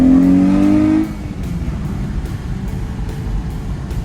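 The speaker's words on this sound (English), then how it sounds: "As soon as I step on the gas, it actually goes." A Dodge Charger fitted with a Pedal Commander throttle controller accelerates with a loud engine note that climbs for about a second. It then drops into a steady, heavy rumble with faint rhythmic thumps.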